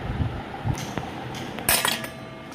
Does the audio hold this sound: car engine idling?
no